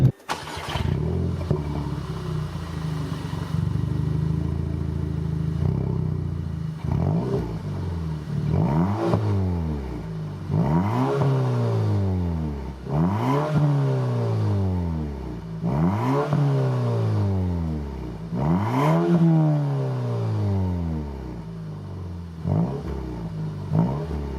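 An Audi A3 1.8T engine with the rear exhaust box deleted revs repeatedly, rising and falling in a regular rhythm of about six blips, with a raspy, throaty exhaust note up close.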